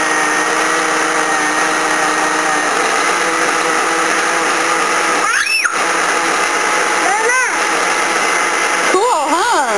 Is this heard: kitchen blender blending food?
yes